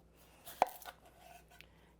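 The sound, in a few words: chopping an onion with a knife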